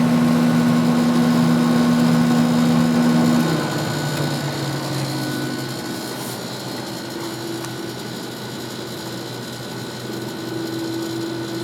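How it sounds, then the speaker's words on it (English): An air conditioner compressor runs steadily after starting up in winter, a loud droning hum with a strong low tone that shifts slightly in pitch partway through and settles into a continuous mechanical whir with no voices. "And the compressor started up right away."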